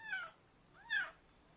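A young female kitten gives two thin, high meows about a second apart, faint and close, in a quiet room.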